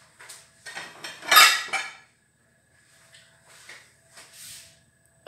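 A bowl for resting donut dough is grabbed and set down in a home kitchen, with a cluster of close clattering knocks and a louder clink, then quieter light handling taps after a pause.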